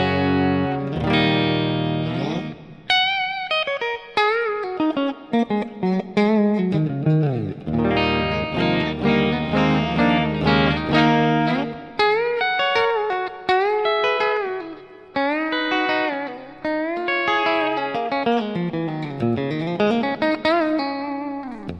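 A Fender J. Mascis signature Telecaster electric guitar plays in a clean tone, picking melodic lines and chords that ring out with clear sustained notes, played alone and loud.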